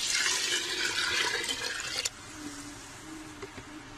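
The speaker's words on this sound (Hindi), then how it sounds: "तो मैं इसमें पानी डाल देती हूँ।" Water is poured into rice in a cooking pot for kanji: a loud, steady rush of pouring liquid for about two seconds, then it stops abruptly, leaving a quiet room.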